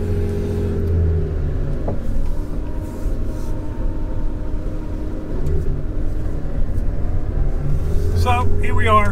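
A restored 1970 Porsche 911 S being driven on the road, its engine a steady low rumble heard from inside the car, rising slightly toward the end.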